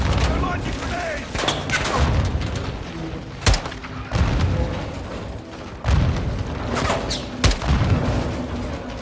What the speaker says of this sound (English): Incoming! Take cover! They're launching grenades!